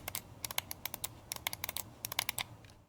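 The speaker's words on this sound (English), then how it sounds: "It's equipped with tactile micro switches, and they make a very satisfying press with a sharp clicky sound." Tactile micro switches on a Turtle Beach Stealth Ultra controller give sharp, clicky presses. About twenty crisp, close clicks arrive in quick, uneven bursts over a faint background, with no talking.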